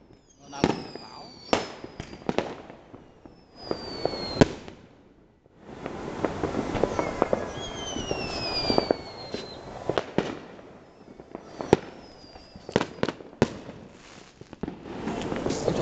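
Village New Year's Eve fireworks and firecrackers in Vietnam: repeated sharp bangs and crackling bursts with whistling rising streaks, some dense stretches of rapid popping, fairly close and loud, with people talking in between.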